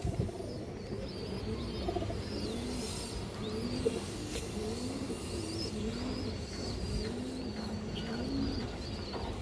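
Giribaj high flyer pigeons cooing repeatedly in a low, rolling rhythm, with a few faint chirps over a steady hum of outdoor background noise, including what sounds like passing traffic.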